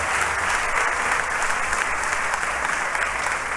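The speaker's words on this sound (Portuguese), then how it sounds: "Então, aplauda Jesus" Sustained applause from a church congregation during a Portuguese-language thanksgiving service, steady and dense clapping filling the room without break.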